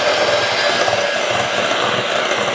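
Electric mixer beating strawberry cake batter in a bowl, a loud continuous whirring buzz close by with a steady hiss throughout, no pauses.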